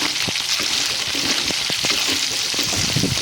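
Minced meat and eggplant fry in a pan, giving a steady close sizzle with scattered scraping and stirring clicks from a utensil, and no voices.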